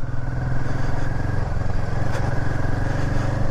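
A Royal Enfield Himalayan motorcycle cruises along a highway toward the mountains, its engine giving a steady, loud thumping drone with constant wind rush and no breaks.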